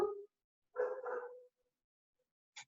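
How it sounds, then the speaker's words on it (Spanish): A dog barks in short bursts: one bark, a pause, then a longer double bark, followed by a brief sharp yip near the end, fairly close and clear against silence. "escuchar un ladrido que a lo mejor te distrae la atención, que no está bajo mi control"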